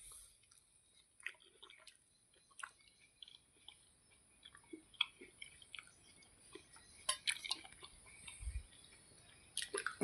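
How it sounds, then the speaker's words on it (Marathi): Boiled ridge gourd and potato pieces are chewed up close, with soft, wet, irregular squishes and smacks spread across a quiet background. "मी खातोय आता पाण्यामध्ये उकडून सनी गिलकं आणि बटाट."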